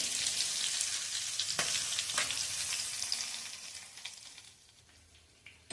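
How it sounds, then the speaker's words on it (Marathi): Hot oil tempering with asafoetida and dried red chili crackles in a loud, dense sizzle that gradually fades and thins out toward the end, with a few sharp pops and no voices. "1 चमचा एवढा हिंग घालणार आहे."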